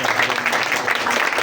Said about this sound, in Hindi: खुदा उनके कलाम के लिए जोरदार तालियां।